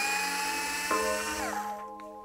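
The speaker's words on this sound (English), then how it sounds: "to get the shocks off, all you have to do is remove this retaining screw here" Electric driver spinning out the retaining screw on a Traxxas X-Maxx RC truck shock, a steady high whine with a brief stutter midway and pitch dropping as it winds down, close and alone.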